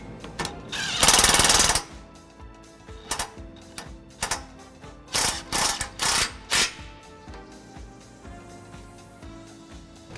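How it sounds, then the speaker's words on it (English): Bolts for a front-mount trailer hitch on a 2016 Ram 1500 being tightened with a wrench. A brief harsh mechanical burst is followed by a string of close ratcheting clicks and clunks in short, irregular bursts. "we'll go ahead and use our torque wrench afterwards to torque it into spec."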